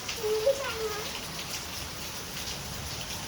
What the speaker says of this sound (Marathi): पाऊस किती पाऊस आला.